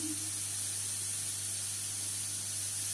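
A pressure cooker cooking dal vents steam in a loud, continuous hiss, close by and unbroken, with a low steady hum beneath it.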